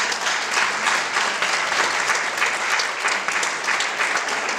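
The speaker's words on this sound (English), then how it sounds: "Give me a round of applause." Steady, enthusiastic applause from an awards audience fills the whole stretch, a dense wash of many hands clapping at moderate distance.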